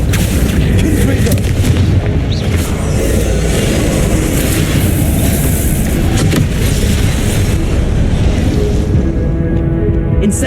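Confringo blasting spell explosions in the Hogwarts Legacy video game, loud dense booms and rumbling blasts that follow one another almost continuously, with a voice casting spells throughout.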